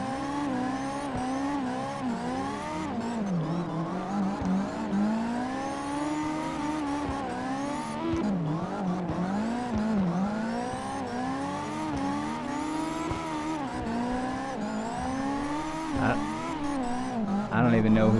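In a video game, a car engine revs up and down continuously, with repeated rises in pitch as gears shift and occasional tyre squeal, loud and sustained while a voice talks over it.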